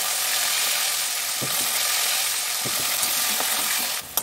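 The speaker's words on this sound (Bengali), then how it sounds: "এই তেলের মধ্যে আমি আগে আলুটা ভেজে নেবো" Potatoes sizzle and crackle steadily in hot oil in a home kitchen pan, a continuous close frying hiss with a few soft clinks near the end.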